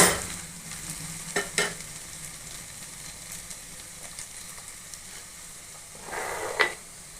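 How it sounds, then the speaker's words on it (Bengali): Potatoes and onions frying in oil give off a soft, steady sizzle, punctuated by a few brief louder scrapes and stirring bursts near the start and again toward the end. "আলু পেঁয়াজ থেকে তেল দেখো কত বেরোচ্ছে"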